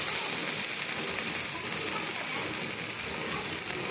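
Tomatoes sauté in a hot pan of reused frying oil, making a loud, steady, dense sizzle with a fine crackle that runs unbroken and close throughout.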